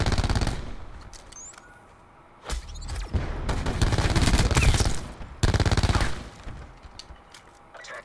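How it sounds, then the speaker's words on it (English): Loud video game gunfire rips out in sustained automatic bursts, separated by brief lulls, close and harsh. "I didn't mean to shoot your body. My finger actually pressed the trigger."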